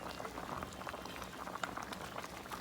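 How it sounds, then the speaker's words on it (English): Nigerian-style groundnut soup with red palm oil boiling steadily in a pot, a dense continuous bubbling and popping heard up close with no talk. "we're just going to allow it again to keep boiling"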